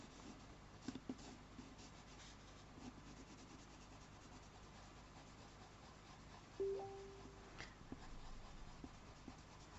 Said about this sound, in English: it really helps if you put your pencil strokes in the direction of the fur